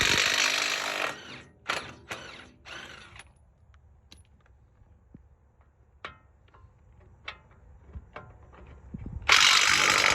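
A ratchet wrench clicks in quick bursts while breaking loose a brake caliper bracket bolt on a Ford Raptor truck, with sharp isolated clicks between louder rapid ratcheting runs near the mic.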